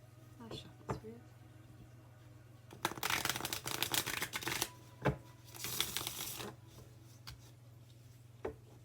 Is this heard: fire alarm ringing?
no